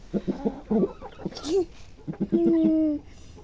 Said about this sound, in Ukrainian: тільки що так щось бубонів півень